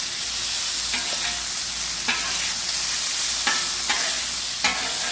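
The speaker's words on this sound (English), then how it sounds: "we'll go ahead and add the garlic and butter" Garlic and butter sizzle steadily on a hot Blackstone griddle, a dense continuous frying hiss broken by occasional scraping clicks of a spatula stirring, close and moderately quiet with no talk.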